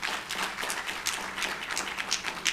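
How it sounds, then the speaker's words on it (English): Audience applause for a panel and its moderator at a live event, a steady wash of many hands clapping with no talk over it. "let's give our panelist and our moderator a hand of applause"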